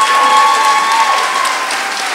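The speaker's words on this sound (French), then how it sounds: "Applaudissez-les chaudement." Applause from a gala audience honouring masters of ceremonies, a bright, full burst of clapping that starts strong and tapers slightly toward the end.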